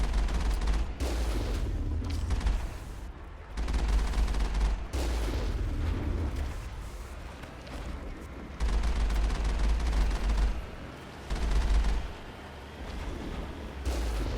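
Cannon and gunfire in the Mass Effect video game during a firefight, rapid bursts of automatic shots and heavy booms recurring over several seconds, with dense low rumble between volleys.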